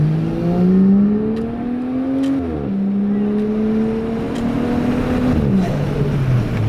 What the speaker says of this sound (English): making some cool turbo noises, some cool exhaust noises out of a crooky, wonky, slapped together exhaust